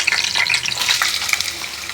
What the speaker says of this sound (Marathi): आता आपण मिरची फोडणी घालूया